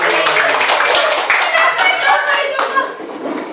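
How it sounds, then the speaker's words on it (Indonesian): A group of teachers claps together during a classroom training game, a lively flurry of close hand claps with some overlapping chatter and voices mixed in. "Oke, tepuk tangan bagi kita."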